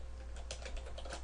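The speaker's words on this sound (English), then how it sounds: "So we type JLabel, or part of it, and press Control Spacebar." Computer keyboard typing Java code, a quick run of light key clicks with an uneven rhythm, close and quiet, with no speech.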